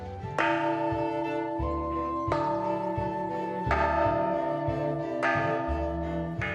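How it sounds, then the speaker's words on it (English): A bell made by Toshiko Takaezu, rung in Jack Lenor Larsen's art gardens, is struck four times at slow, uneven intervals. Each close, fairly loud strike leaves a rich, sustained ringing tone that carries into the next, with no talking. "This bell is made by Toshiko Takaezu, a good friend of mine and of ours."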